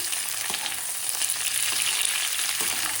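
Mixed vegetables with bell peppers frying and sizzling steadily in a pan, a dense continuous hiss with occasional soft stirring scrapes, close and fairly loud with no voices.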